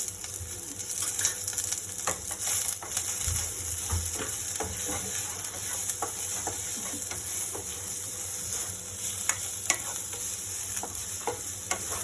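Onions and capsicum fry and sizzle in a pan with a steady hiss, broken by a few scraping stirs, close by with no talk.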